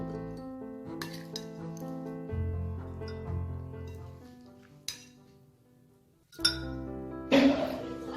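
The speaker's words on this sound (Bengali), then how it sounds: "এবার এই জারের মধ্যে আমি এই আচারটাকে ভরে নেব" Homemade mixed vegetable pickle of carrot, radish and chilli is spooned into a sterilised glass jar, giving soft clinks and scrapes against the glass amid low kitchen noise, with a bright clatter near the end.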